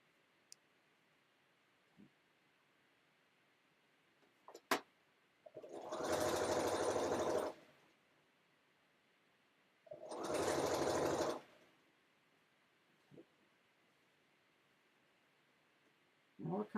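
A sewing machine stitching set-in seams runs in two bursts of rapid, even whirring and clatter, about two seconds and then about a second and a half, separated by quiet with a few small clicks.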